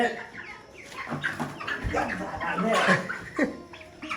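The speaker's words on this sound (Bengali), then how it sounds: "এটা ধরতাম মুরগি ধরতাম হ্যাঁ" A chicken on a farm clucks and squawks in agitated bursts as it is caught, close by and mixed with people talking.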